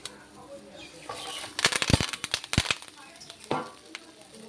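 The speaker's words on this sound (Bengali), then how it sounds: "আবার আমরা মাছটাকে কড়াইতে দিয়ে দেবো।" Pangas fish wrapped in banana leaf set back into a hot pan, giving a faint sizzle with a burst of crackling and sharp clattering knocks, close by.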